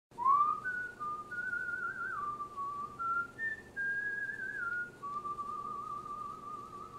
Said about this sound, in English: I held out a carrot and whistled again. A song about mermaids,